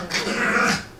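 Dogs growl in a home studio: a low, rumbling snarl lasting about a second. It is fairly close, with no speech over it.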